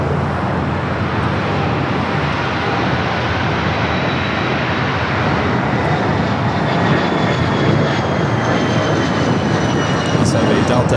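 Airliner taking off on the south side runways at Los Angeles International Airport, a loud continuous engine roar that stays steady throughout with a faint whine riding above it.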